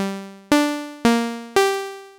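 Yamaha EX5 synthesizer playing a saw wave patch with a short decay: four separate bright, buzzy notes, each with a sharp attack that fades away steadily before the next one starts, clear and alone.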